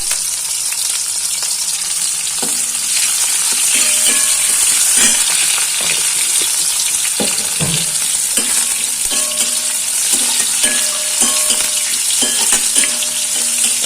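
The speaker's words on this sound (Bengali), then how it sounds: "এটা একটু লাল লাল করে ভেজে নেব" Bitter gourd and bay leaf frying in oil in a pan, a loud steady sizzle broken by repeated scraping and knocking of a stirring spoon, with no talking.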